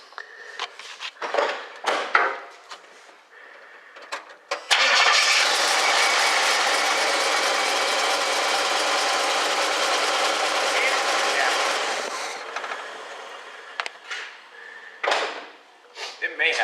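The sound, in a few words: 1976 Pontiac Firebird engine running, slight miss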